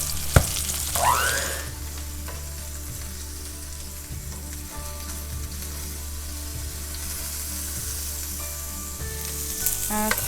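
Cabbage rolls frying in a skillet give a steady loud sizzle for several seconds, with a few light knocks and scrapes and one brief sweeping whoosh near the start, no one speaking.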